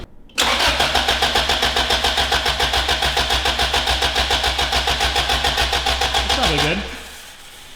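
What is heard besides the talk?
B18 swapped Honda Civic engine starting with new turbo kit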